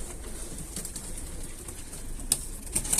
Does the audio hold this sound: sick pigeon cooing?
yes